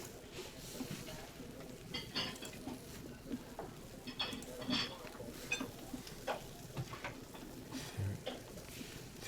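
Bacon frying in the Nancy Drew: White Wolf of Icicle Creek video game, a steady faint crackle and sizzle with scattered small clicks and utensil taps throughout, no voices.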